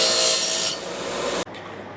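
A power tool grinds at a freshly cut edge in a plastic fan shroud for dual electric fans, a loud close rasping whir that drops in pitch, then cuts off abruptly, leaving a faint low hum.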